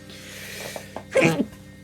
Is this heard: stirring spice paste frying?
no